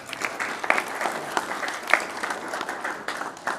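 Audience applause at a city council meeting, moderate and uneven, with scattered sharper claps standing out from a dense patter of hands.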